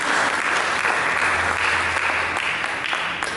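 A church congregation claps continuously during a sermon, a loud, dense wash of applause that holds steady without talking.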